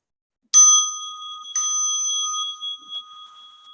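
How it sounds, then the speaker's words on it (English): A mindfulness bell rings twice, alone and close. Each strike leaves a clear, sustained metallic tone that slowly fades into silence. "as you listen to the bell, please sit comfortably"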